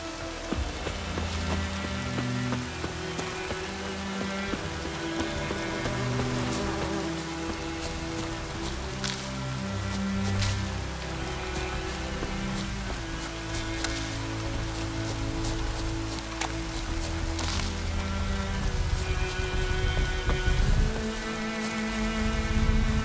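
Steady rain patters on surfaces in The Witcher 3, a constant dense hiss of drops under low droning ambience and occasional sharper taps, holding at an even level throughout.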